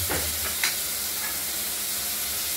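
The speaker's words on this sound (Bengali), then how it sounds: "আলুগুলো দিয়ে ভেজে নেব।" Potatoes frying in a pan with a tempering of cumin and nigella seeds, a steady close sizzle and hiss with a few brief stirring scrapes, no talking.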